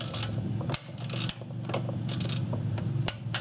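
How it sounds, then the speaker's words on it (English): Bolt tightening on a Suzuki Forenza timing belt job gives a close series of quick ratcheting clicks and small metallic taps, irregular in rhythm, with short pauses between bursts. "just while you're holding it in that spot, just go ahead and tighten the bolt up"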